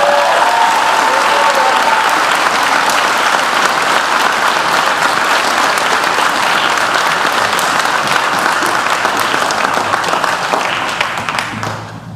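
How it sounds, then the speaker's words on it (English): A high school honors night audience applauds scholarship recipients, with loud, dense clapping from a large crowd that holds steady for about twelve seconds before starting to fade at the end. "So I want to give these guys a huge round of applause here."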